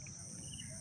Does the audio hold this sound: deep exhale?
no